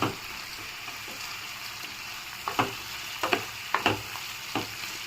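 Ginger garlic paste frying in a pan, a low continuous sizzle broken by a few sharp stirring scrapes and spatters in the second half, moderately close and without talk.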